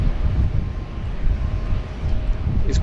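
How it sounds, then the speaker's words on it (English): A Jetstar Airbus A320 with large sharklets on short final into Sydney from Melbourne, a loud continuous low engine rumble through the whole brief moment, with wind noise mixed in. "Our next arrival, short final here, Jetstar Flight 512 on the milk run from Melbourne, Jetstar A320 with some big sharklets strapped to the side of it."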